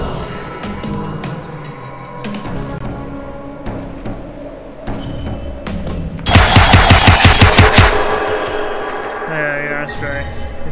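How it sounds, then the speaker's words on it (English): Poison darts fire in the video game The Light Brigade as a rapid string of sharp, loud shots amid game effects and ringing tones, with a dense volley in the middle. "I'm gonna keep shooting with the poison dart"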